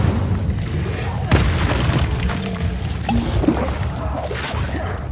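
A fire spell cast in the video game Hogwarts Legacy produces a deep whooshing boom, then crackling magical effects over continuous game sound.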